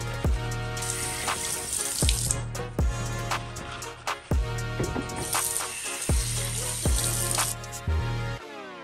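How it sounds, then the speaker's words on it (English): Shoelaces rinsed under cold running tap water in a sink, a steady splashing stream broken by repeated sharp knocks and thumps as the laces are rubbed and flushed, then the flow cuts off. "Walk over to your sink, give them a good wiggle, rub them in your hands, flush them out with cold water"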